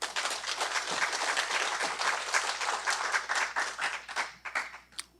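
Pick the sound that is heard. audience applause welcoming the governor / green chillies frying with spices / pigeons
audience applause welcoming the governor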